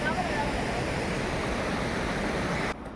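Sita Falls waterfall near Ranchi gives a steady, close, full-bodied roar of rushing water that holds constant throughout, then drops noticeably in level for the final moment.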